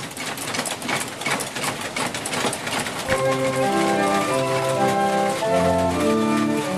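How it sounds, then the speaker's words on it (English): A large mechanical model city machine with nearly 200 moving figurines clatters and whirs with dense rattling motion; after a few seconds, sustained musical tones join in over the steady mechanical running. "As the machine comes to life, almost 200 figurines begin to move."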